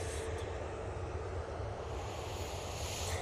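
An Easyjet airliner arriving at Manchester Airport, a broad continuous roar of jet engines held at steady loudness, heard from a distance with no talk over it.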